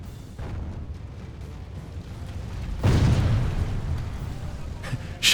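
Mangonel catapult stones strike walls during a medieval siege battle, heavy booming impacts landing at a distance, with one large crash near the middle and a sharp hit at the end.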